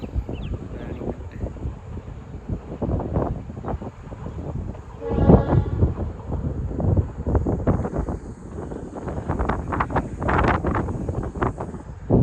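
A train runs along a railway line in hilly country some distance away, a rumbling, rattling passage with intermittent clanks, heard under gusty wind buffeting the microphone.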